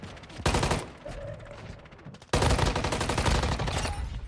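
Shimo's gun in Warzone Mobile fires two long, dense bursts of rapid automatic fire, close and loud, the second stream continuing unbroken after a short pause.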